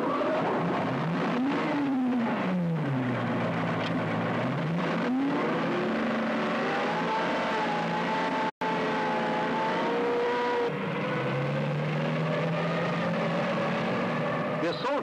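Armored personnel carriers led by a support tank moving off, a steady loud engine drone with rising and falling pitch as they accelerate, under a narrator's voice.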